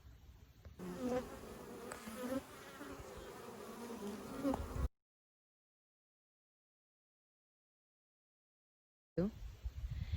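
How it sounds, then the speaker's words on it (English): A dense, steady buzz of many honeybees at a hive entrance fills the air up close, cut by a stretch of complete silence before the buzzing briefly returns. "You can see bees coming and going."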